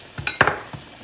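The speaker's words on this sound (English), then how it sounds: "saute the onions until they're just a light golden brown." Onions sautéing in a pan for a home cook-off, heard as a second of broken frying noise with a few sharp stirring scrapes spaced roughly a quarter second apart, fairly close and with no talk.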